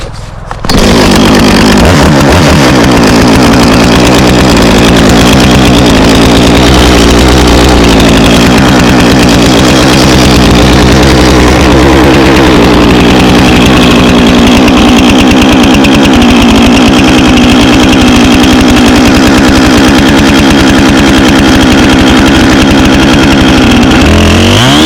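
A saw cuts firewood into rounds, a loud, steady engine drone that runs almost without a break for the whole clip after a brief start, up close, with no talking.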